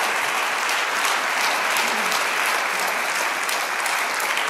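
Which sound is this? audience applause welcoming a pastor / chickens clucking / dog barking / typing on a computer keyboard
audience applause welcoming a pastor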